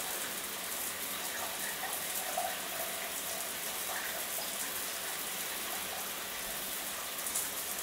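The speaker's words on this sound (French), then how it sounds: "sans plus tarder, je rentre dans la douche." Cold water runs from a shower in a steady, moderately quiet hiss and patter that continues unbroken throughout.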